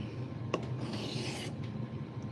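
A blade edge is rubbed across a 400 grit sharpening stone in a quiet room, a soft gritty rasping with a sharper scrape near the start and a longer stroke through the middle.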